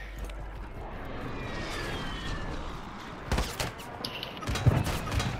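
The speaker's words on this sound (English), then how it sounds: "that's a 3-round burst gun" A three-round burst gun fires in the video game Call of Duty: a short, sharp cluster of shots cracks out loudly midway, over a steady engine-like drone, followed by a few scattered thuds.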